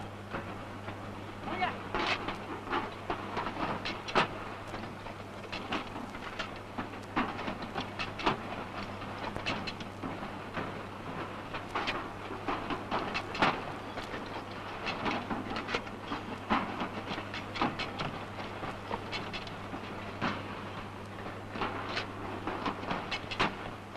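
A tin-can squeezer machine in a 1941 Indian factory presses tin tops and bottoms onto can bodies, giving a steady clattering, rhythmic mechanical racket over a constant low hum, with faint narration running underneath.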